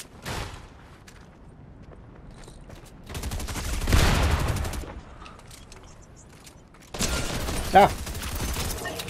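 Video game gunfire erupts in three rapid bursts separated by pauses, loud and close, with a short yelp from a player.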